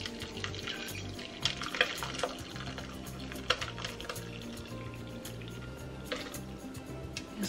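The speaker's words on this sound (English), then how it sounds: "Just going to let that sit and drain for about 10 minutes" Curds of cream cheese made from milk powder drain through cheesecloth in a sieve, giving a faint steady trickle and patter of dripping liquid with small irregular splashes.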